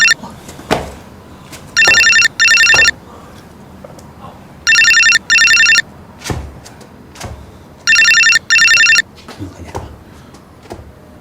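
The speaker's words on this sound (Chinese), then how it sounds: "我手机响了。" A mobile phone ringtone sounds loud and close in three evenly spaced bursts, each a pair of electronic trills, with scattered thumps and small noises in the pauses between.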